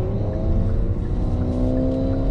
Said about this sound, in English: I'm going to go ahead and get on the brakes.